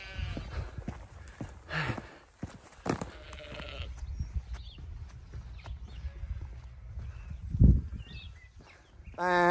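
A sheep bleats on a hillside during a Peak District walk near Chrome Hill, with brief animal calls amid wind, footsteps and scattered handling noises, and a louder burst near the end.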